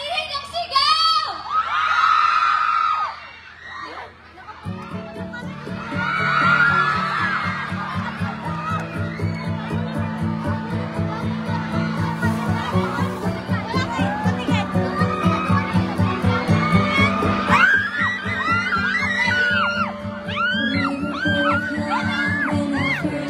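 A large crowd at the Belenismo Awards Night shouts and cheers loudly and continuously, high-pitched voices and whoops over a pounding beat.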